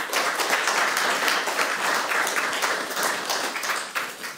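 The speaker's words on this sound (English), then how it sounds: "Please give him a warm applause." An audience at a magazine launch event for Russian writers in exile applauding a speaker, a sustained round of clapping from a moderate crowd that tapers off at the end.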